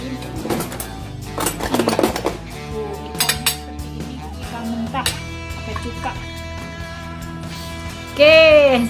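Dishes and cutlery clink and clatter intermittently as tableware is set down on tables, with scattered knocks and a brief louder ringing tone near the end.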